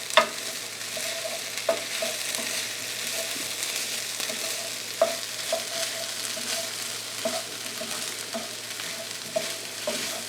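A tofu scramble mixture with smoky tempeh sizzles in a pan, a continuous close frying hiss broken by periodic spatula scrapes and clacks as it gets a quick stir.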